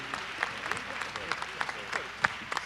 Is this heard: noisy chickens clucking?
no